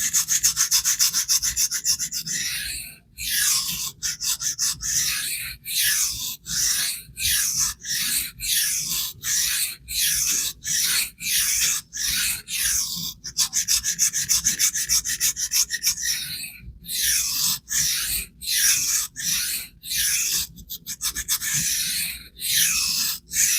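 A thick, poorly heat-treated knife blade is stroked on a sharpening stone to raise a burr: loud, close, rhythmic gritty rasps repeat steadily in quick succession throughout.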